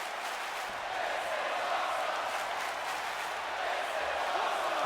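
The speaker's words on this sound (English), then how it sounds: "Hear the crowd chanting" A wrestling crowd at a pro wrestling event chants and roars in a broad, sustained wash of massed voices, steady and fairly loud throughout.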